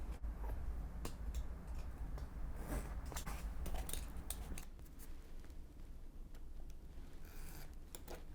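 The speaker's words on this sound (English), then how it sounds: "then cut to allow the cloth to be turned in" Cloth being cut to turn it in over the edge of a box covering: a steady run of close, crisp scissor snips over a low background hum.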